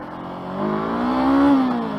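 A 2021 Honda CB500F revs up hard under acceleration, its engine note climbing in pitch and loudness to a peak before easing slightly, close and alone with no talk.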